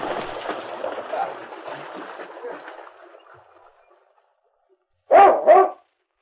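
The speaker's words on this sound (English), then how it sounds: "At that moment, King stood on top of the distant hill, barking in summons" In a 1952 radio drama, a dog barks twice in quick succession, loud and close, after a stretch of fading splashing water and a moment of silence.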